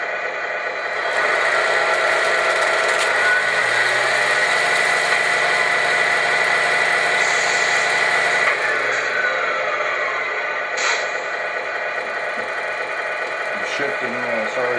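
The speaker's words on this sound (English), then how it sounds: "And now they run. I'm going to show you a low speed." A scale model truck build runs at low speed, its small electric drive giving a steady whirring hum with faint mechanical buzzing that holds for most of the stretch, then eases off near the end.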